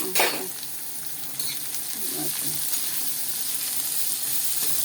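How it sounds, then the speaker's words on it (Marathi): Onions fry in a hot pan on a home stove, giving a steady close sizzle with a sharp stirring scrape at the start and occasional light spoon contact. "सगळा कांदा टाकलेला आहे हां सगळा कांदा टाकायचो आणि थोडंसं हळवून घ्यायचं"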